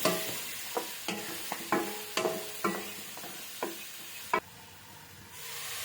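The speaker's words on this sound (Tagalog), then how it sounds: "Ilagay na natin yung chicken. Sangkot siya muna natin." Chicken pieces being sautéed in a pan for chicken curry, with a soft sizzle and a series of distinct scraping stirs and clanks of the utensil against the pan, fairly close and quiet.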